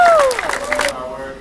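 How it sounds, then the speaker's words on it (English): A community crowd breaks into applause and cheering at a food-drive celebration, loud and close at first, while a voice rings out over the clapping before the noise drops away. "applause"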